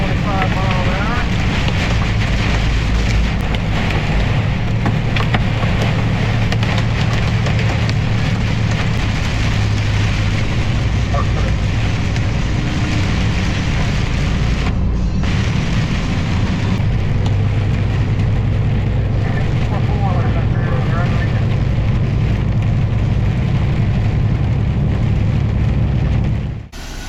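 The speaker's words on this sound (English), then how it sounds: "And here comes the wind and the hail." Strong wind of about 25 miles an hour roars with hail during a storm over farmland, a dense continuous rushing and buffeting that stays loud for the whole stretch with no breaks.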